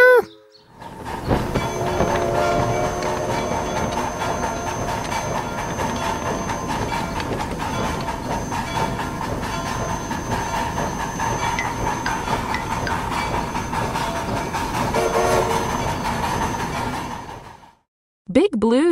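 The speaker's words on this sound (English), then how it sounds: "Big Blue's locomotive pulled 97 train cars." A locomotive hauls a long string of train cars past, a steady rumbling roll with rhythmic clacking that holds for most of the stretch before cutting off near the end.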